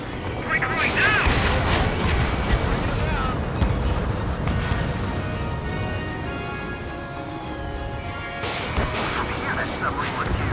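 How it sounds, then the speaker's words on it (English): Missiles launch from a fighter jet in Ace Combat 7, with rushing bursts rising over a constant engine roar and booms, while voices talk throughout. "Strider 1, missile launched."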